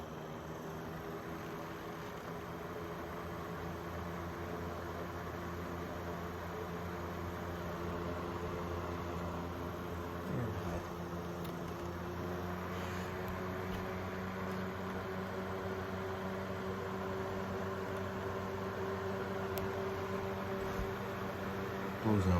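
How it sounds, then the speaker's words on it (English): A small Mini Tozai (Duracraft) box fan runs on its medium setting, the motor humming steadily close by with a continuous airy whoosh and a faint scraping grind underneath. "That motor is making a lot of scraping noises."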